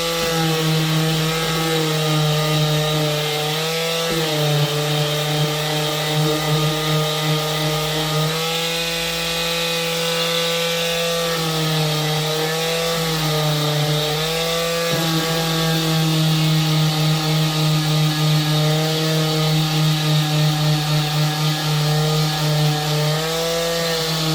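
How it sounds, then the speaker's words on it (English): A small hand sander buzzes steadily against the back of a resin piece, a continuous close whine with slight pitch dips as pressure shifts, running alone without talk. "I'm just going to sand the back of this piece"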